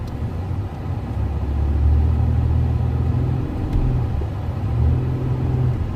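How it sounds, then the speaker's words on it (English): A 2011 Ford Ranger 4x4 pickup with a 4.0 engine drives through snow and over a curb, its engine giving a steady low rumble close by that rises and falls slightly with throttle. "We're gonna drive it up through here in the snow and stuff right here."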